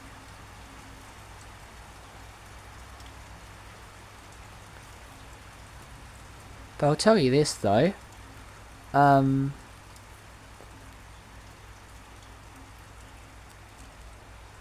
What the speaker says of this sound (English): we're gonna get some more rain